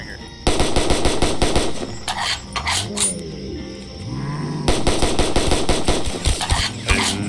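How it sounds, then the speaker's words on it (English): Rapid SMG-style gunfire from Black Ops III Zombies rattles in dense bursts, pausing midway while other game noises and voices come through, then resuming in a loud continuous stream. "Dude, yours is firing like an SMG."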